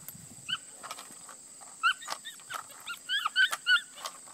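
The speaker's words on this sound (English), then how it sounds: "as he offers a more powerful bark more and more" A puppy barks and whimpers during drive training, a few short high yips scattered through the clip, rising toward a run of sharper barks near the end, close and moderately loud with no talk.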